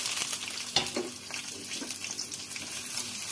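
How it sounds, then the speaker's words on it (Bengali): Onions and chilies fry in hot oil in a wok, a steady close sizzle with faint scraping and stirring clicks throughout. "একটু ভেজে নিলাম মরিচ পেঁয়াজটা"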